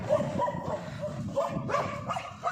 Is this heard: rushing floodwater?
no